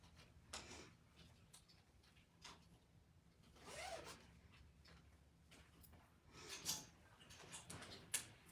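A full-zip sweater being unzipped, a quiet series of short ticking zipper rasps spread through the stretch, with a few louder pulls near the end and no talking.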